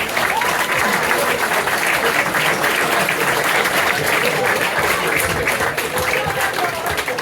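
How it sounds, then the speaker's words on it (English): Sustained applause from a sizeable crowd, dense and steady clapping that stays loud throughout without fading. "I think that deserves a round of applause"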